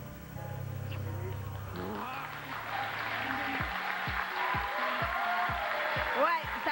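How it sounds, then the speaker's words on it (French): Studio audience applauding in a Quebec reality TV studio, a dense wash of clapping that swells midway, with a voice talking over it and rhythmic thumps near the end. "ça a beaucoup applaudi dans les studios"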